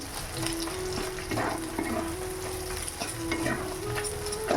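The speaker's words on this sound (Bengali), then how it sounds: "এখানে চিকেন আর আলুটা পুরো শুকনো শুকনো করেছি" Chicken and potato pieces dry-fry in a pan with no water added, giving a steady close sizzle broken by the scrape and rattle of repeated stirring, with a faint constant hum behind.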